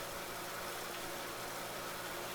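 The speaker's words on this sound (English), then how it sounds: "A surprisingly good tractor." Tractor engine idling on a farm in a survival roleplay video game, a steady low rumble holding constant and fairly quiet throughout, with no talk over it.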